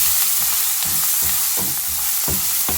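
Vermicelli pulao with ginger, methi and mint leaves sizzles steadily in a frying pan while a spoon stirs it, sending sharp scraping clicks at irregular intervals over the constant hiss of hot oil.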